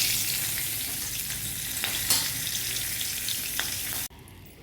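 Green chilies hit hot oil tempered with nigella seeds in a kadai, giving a loud, even sizzle with a few stirring taps before it cuts off abruptly near the end.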